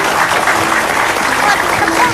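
Applause from a TV studio audience during a talk show, a dense continuous wash of clapping throughout the short stretch, with faint voices mixed underneath.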